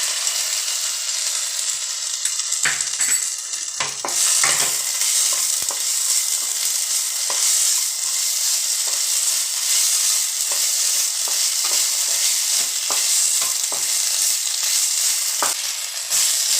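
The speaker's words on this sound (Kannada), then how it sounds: "ಈಗ ಶುಂಠಿ ಬೆಳ್ಳುಳ್ಳಿ ಪೇಸ್ಟ್ ಹಾಕೋಣ." Ginger garlic paste hisses and sizzles loudly in hot oil with browned onions and whole spices, while a spoon scrapes and stirs the pan in frequent irregular clinks and scrapes.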